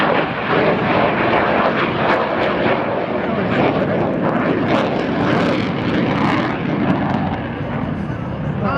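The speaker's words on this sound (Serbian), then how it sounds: "Grmi ovaj MiG-29." A MiG-29 fighter jet roars loudly and continuously on takeoff during an open day at Batajnica airfield, a broad sustained thunder filling the whole stretch.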